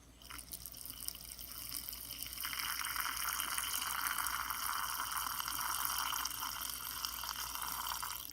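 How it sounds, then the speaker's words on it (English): Tap water runs steadily into a pet Pac-Man frog's water bowl, a soft, continuous splashing stream that grows fuller after a brief start and keeps going alone until it cuts off near the end. "Add some more water to her water bowl one right here."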